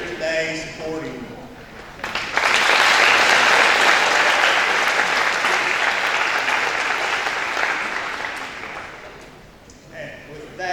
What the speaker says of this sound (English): give a round of applause to all your parents, grandparents, loved ones that are here today supporting you